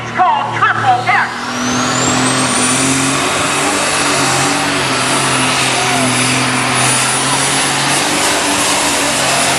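Frank Keener's Case International MX305 super stock pulling tractor, called Triple X, roars loud and steady down a full-length pull track at Canton, Ohio, after a brief revving burst, a rising whine climbing over the sustained engine bellow.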